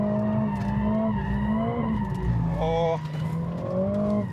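A Toyota Supra or Mercedes-AMG A45 drifts on a track in second gear, engine droning loudly throughout as the tires squeal and skid continuously, with a brief exclamation from a driver over the noise.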